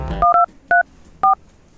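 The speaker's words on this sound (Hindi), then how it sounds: "तू फोन लगा के दिखा दे" Four short telephone keypad tones beep in an uneven sequence, crisp and close, with near silence between them.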